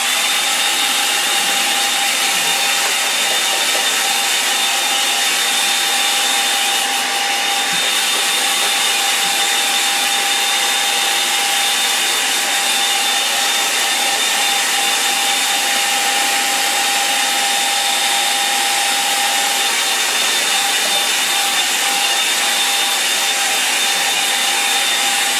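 A hair dryer blows over a watercolour painting, giving a loud, continuous whirring hiss with a steady motor whine that holds unchanged for the whole stretch.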